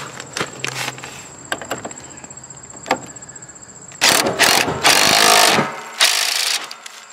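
Ratchet tightening a 19 mm nut on a John Deere lawn tractor, scattered close clicks and metallic taps followed by bursts of rapid ratcheting near the end.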